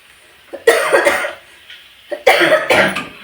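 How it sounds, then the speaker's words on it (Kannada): Two bursts of harsh coughing, each a cluster of three or four coughs, close and fairly loud with a short pause between. "ಆ ಥರ ಕೆಮ್ಮು ಬರುತ್ತೆ"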